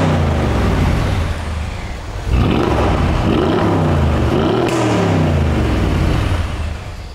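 A Mercedes luxury SUV engine revs hard and loud, climbing and dropping through several throttle blips with a deep, steady roar that barely lets up.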